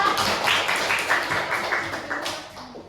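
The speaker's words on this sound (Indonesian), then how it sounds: "Beri tepuk tangan untuk Mbak Anissa." A classroom of students claps for a classmate after her presentation, a brisk, fairly even burst of many hands that stays close and full before tapering off near the end.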